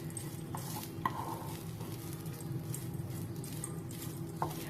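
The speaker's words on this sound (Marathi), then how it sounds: "आता हा नारळ अगदी चांगला कोरडा होईपर्यंत आपल्याला परतून घ्यायचा आहे" Fresh grated coconut is stir-roasted in a pan until dry, giving a faint, steady scraping and soft rustle with a few light spoon taps against the metal, quiet and without speech.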